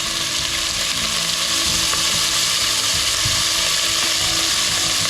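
Beef pieces brown in a frying pan for a Caribbean curry, giving a loud, steady sizzle with scattered clicks and scrapes, close and without speech.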